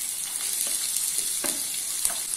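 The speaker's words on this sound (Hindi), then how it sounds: "अभी इसमें फाइनली चॉप किए हुए ऑनियन ऐड कर लेना है" Finely chopped onions sizzling in four spoons of hot oil in a pan for South Indian mutton boti fry, a steady close frying hiss with a few soft stirring scrapes and no voices.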